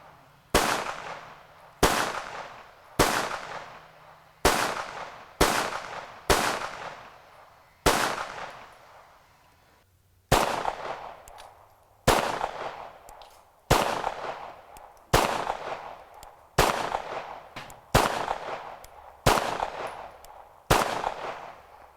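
A CZ82 handgun fires brass-cased ammunition in about seventeen sharp, loud shots, each with a short decaying echo, spaced roughly one to one and a half seconds apart with one longer pause partway through.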